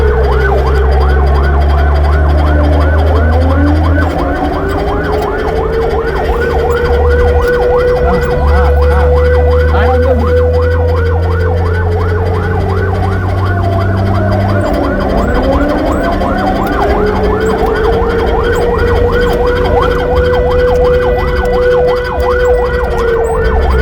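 An ambulance siren wails continuously on a road in Kanhangad town, loud and close, its rising and falling tone sweeping over steady low traffic and engine rumble, with no voices.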